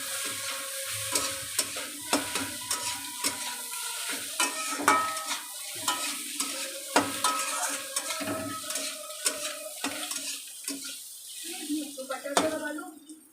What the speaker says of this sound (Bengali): এবারে চাল কুমড়ো আর ডিমটা একটু ভেজে নেব।